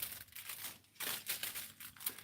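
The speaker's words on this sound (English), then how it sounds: "your standard plastic bag" A standard plastic bag holding Big Ben meat pies is crinkled close up, in a continuous rustling with several louder crackling surges, heard alone without talk.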